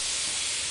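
Steam hisses from a vent in the video game Lethal Company, a steady, loud, airy rush that holds without a break for under a second.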